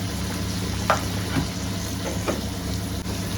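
Mutton liver fry being stirred in a pan with spices, a steady close sizzle broken by a few scraping stirs of the spoon, with no voices.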